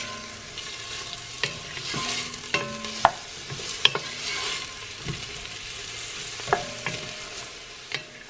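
A medium onion sizzles and fries gently in vegetable oil, a steady hiss broken by scattered clicks and taps as a utensil stirs the pan now and then.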